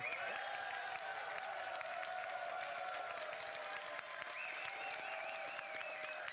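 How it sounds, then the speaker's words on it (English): Continuous applause from a crowd at the final of a Clash of Clans Builder Base tournament, faint and distant, holding steady the whole time over a tonal background hum. "Chief Pat giving a round of applause to Itzu."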